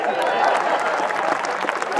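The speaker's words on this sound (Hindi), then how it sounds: "शाबाश इंडिया, बदौरे ताली।" A seated audience at a motivational talk gives a brief, lively burst of clapping lasting a couple of seconds, close and fairly loud.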